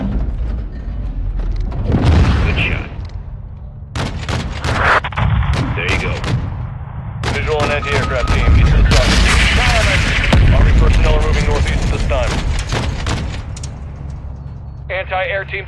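Heavy gunship cannon fire in the Modern Warfare 2 campaign, loud booming shots and rapid bursts with explosions layered throughout, under radio chatter and game voices.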